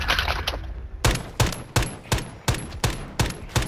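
Shootout at a stash house in a video game: a burst of about eight loud, evenly spaced gunshots rings out close by, each sharp crack followed by a short decay, after a quieter stretch of scattered noise.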